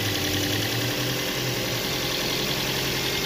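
A freshly overhauled Toyota 2NZ engine idles with a misfire, a steady, close, continuous running drone with an uneven low pulse and no voices over it.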